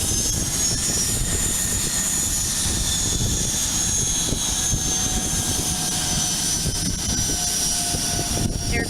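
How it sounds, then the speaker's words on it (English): A Learjet takes off from Aurora Municipal Airport, its jet engines giving a steady, distant roar that holds evenly throughout with no voices over it. "There goes that LearJet."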